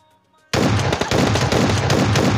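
Gunfire from the video game PUBG Mobile Lite erupts after a brief quiet moment, a loud, dense burst of rapid shots that continues without a break.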